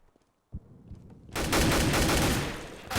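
AK rifle fire in Counter-Strike, starting with a single shot after near silence and then building into a loud, sustained automatic burst, close and continuous for about a second and a half before easing off.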